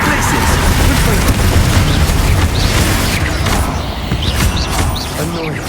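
Confringo fire-blast spell being cast in Hogwarts Legacy, a loud continuous roar of bursting booms and crackling impacts filling the whole stretch, with a battle voice over the chaos.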